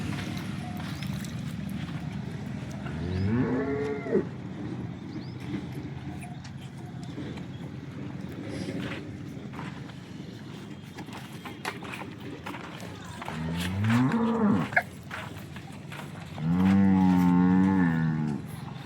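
Several long, low moos from cows ring out at intervals, one early, one midway and a louder, drawn-out one near the end, over a quiet barnyard background with a freshly calved cow and pregnant cows.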